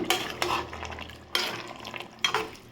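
A spoon scrapes and stirs through thick masala for beef pepper gravy in a pan, three distinct strokes with a soft sizzle underneath.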